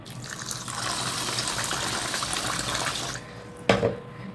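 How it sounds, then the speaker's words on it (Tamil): Water pours steadily into a pot to soak rice for kuska for about three seconds, then stops, followed by a sharp clunk of a pot or lid. "இப்போ வந்து நம்ம தண்ணி ஊற்றி வச்சு ஊற வச்சிடலாம்"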